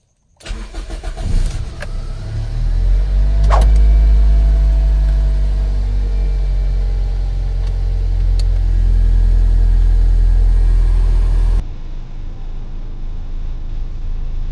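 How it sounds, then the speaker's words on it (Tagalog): A Toyota Corolla Altis engine cranks and catches, then settles into a steady, loud idle rumble that continues for several seconds before dropping slightly in level. "start natin yung sasakyan"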